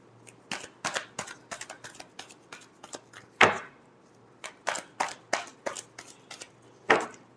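Tarot cards are shuffled by hand, with a run of crisp riffles and sharp snaps and a couple of louder slaps, all close and without speech.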